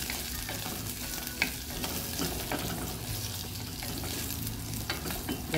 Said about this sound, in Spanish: Aquí ya tenemos hirviendo 2 dientes de ajo con media cebolla en aceite.